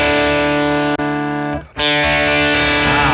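Distorted electric guitar chords on the bridge pickup ring out through a 1957 Tweed Bassman amp model, sustained and buzzing, with a brief cut and a strummed restart, no voices.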